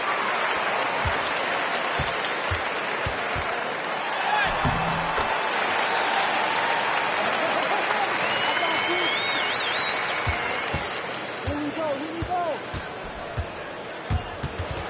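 Virtual arena crowd in NBA 2K26 on PS5 during a Hawks versus Wizards basketball game applauds in a steady, dense roar, with basketball bounces and squeaks underneath and a commentator talking over it.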